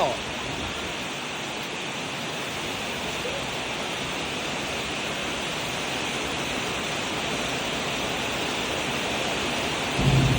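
Heavy rain pours steadily during a thunderstorm, a loud, dense roar of falling water that holds constant, with a brief louder swell near the end.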